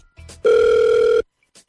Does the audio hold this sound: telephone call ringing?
yes